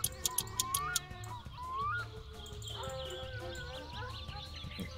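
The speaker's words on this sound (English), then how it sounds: "There are crazy animal sounds in this game. Dogs and birds." Harsh cawing calls from crow-like birds in the game My Summer Car repeat over a busy background of other sounds, moderately loud and close.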